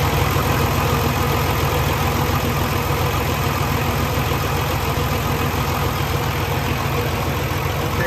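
A 2014 Kenworth T680 truck's diesel engine idles steadily up close, a loud, even rumble with constant mechanical hum and no voices.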